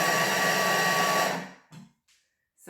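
A Thermomix on speed 7 chopping fruit, nuts and seeds very fine for a chocolate bar gives a loud, steady whirring roar, then stops and leaves a few faint clatters and knocks.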